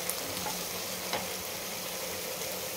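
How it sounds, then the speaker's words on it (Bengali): Onions sizzle steadily in hot oil, being fried to a deep brown beresta for chicken biryani; a dense, even crackle fills the clip at moderate volume without any voices. "বেরেস্তাটা আমার আরেকটু ভাজা হবে।"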